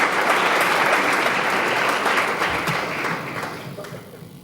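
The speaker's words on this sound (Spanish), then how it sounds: "Fuerte aplauso" A theatre audience in Almansa greets a lecture speaker with sustained applause: dense, steady clapping from many hands that fills the room, then slowly thins and fades.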